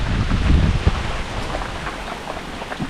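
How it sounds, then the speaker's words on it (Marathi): Heavy monsoon rain pours down in a steady, dense, loud roar that holds without pause, with a gust-like swell near the start and no voices. "पाऊस आहे ना जरा थांबत नाही"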